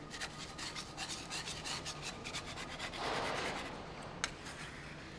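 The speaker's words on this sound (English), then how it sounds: "just pick up your excess stearic acid, scrape it" Scraping of excess stearic acid: a steady run of rapid, rasping strokes, close and fairly loud, then a broader rough scrape and one sharp tick near the end, with no voices.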